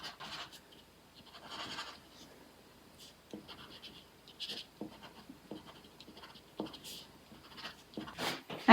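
Pencil scratches across paper in quick, irregular strokes while sketching faces, close and fairly quiet, with short bursts of scribbling separated by brief pauses.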